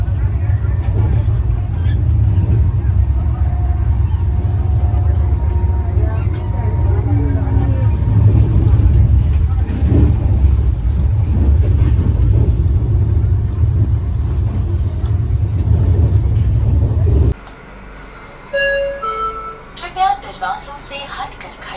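Interior rumble of the 12005 New Delhi–Kalka Shatabdi Express running at a steady 130 km/h, a loud, constant low drone with faint voices over it, cutting abruptly to quieter, different sounds near the end.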